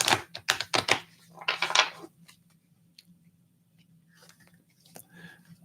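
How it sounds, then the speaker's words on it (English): Rune cards being shuffled by hand, a burst of crisp flicking and riffling clicks in the first two seconds, then quieter faint rustles and a low steady hum, with one sharp tap near the end. "Let me shuffle the cards a little more while I'm waiting a little bit."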